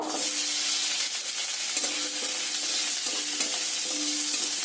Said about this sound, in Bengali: তেলটা গরম হয়ে গেছে, ওতে দিয়ে দেব যে সিদ্ধ করে রাখা যে কাঁঠালের আটিগুলো ছিল সেগুলো দিয়ে দেব